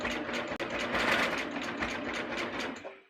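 A sewing machine with cutting knife and needles stitching a fabric thumb cuff, a fast even mechanical whirr of rapid stitches running close and loud, with a brief stop just after the start before it carries on.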